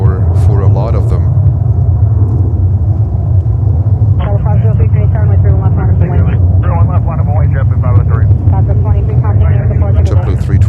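A JetBlue Airbus A321 jet airliner takes off at JFK, a loud continuous low roar of engines that holds steady throughout while a person talks over it.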